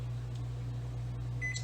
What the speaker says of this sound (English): I'm going to put my power level down on 5 because I know in advance with this particular microwave